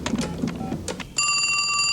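A telephone bell starts ringing about halfway through, a loud, steady electronic trill that continues to the end after a short stretch of muffled background noise.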